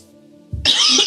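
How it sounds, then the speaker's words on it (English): A single close cough breaks a quiet pause during a tabletop role-playing game session: a short low burst followed by a rough, breathy rasp that trails off, with no talking over it. "Sorry, I had to cough."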